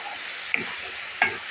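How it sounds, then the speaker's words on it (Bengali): Dried fish (shutki) going into a spice paste frying in a pan for a mixed vegetable dish, a steady soft sizzle with two brief sharp clinks of a spoon against the pan, no talking. "এখন আমি শুক্তিটা ঢেলে দিচ্ছি যে শুক্তিটা দিয়ে পরিষ্কার করে রেখেছিলাম"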